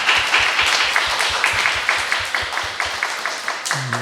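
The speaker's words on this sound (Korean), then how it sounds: "우리 박수로 환영하겠습니다" A church congregation applauds during a Sunday morning service to welcome a member back, a steady, moderately loud round of rhythmic clapping that fades near the end, with no talking.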